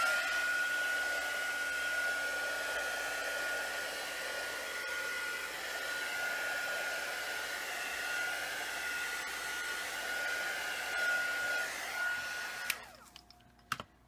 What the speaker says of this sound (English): And hit those real quick again with the heat gun.